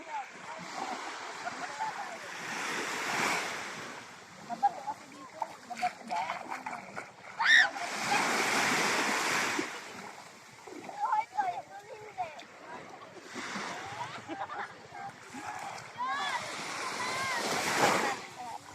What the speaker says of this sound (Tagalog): High tide.